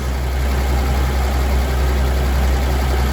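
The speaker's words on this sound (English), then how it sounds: "So I'm pretty pleased with how it's running now. idle's nice." The 226 engine of an old Willys truck idles steadily and close by, a continuous low rumble with an even beat and no talk over it.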